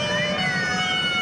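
A siren wailing steadily in the distance at a fire drill, its tone sliding slightly, over a low background rumble.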